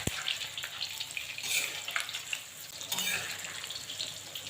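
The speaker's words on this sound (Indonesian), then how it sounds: "Goreng dulu tahu secukupnya aja seperti ini." Tofu pieces frying in hot oil in a home kitchen, a steady sizzling hiss with crackling bursts that continues throughout at close range.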